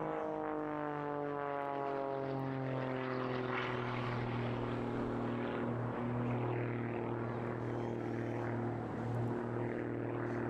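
Aerobatic propeller aircraft with an 8.5-litre Lycoming engine and added jets at the Eastbourne airshow, a sustained drone whose pitch slowly falls as the plane passes at a distance.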